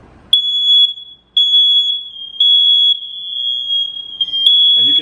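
Several networked household smoke alarms sound together during a test, sending out loud, piercing, high-pitched tones in long repeated pulses with brief gaps between them, close and dominating.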